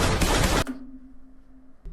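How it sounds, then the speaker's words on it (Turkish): A single sharp gunshot-like blast rings out, followed by a brief fading tone and a faint click at the end. "Sondaki silah sesini duydun mu?"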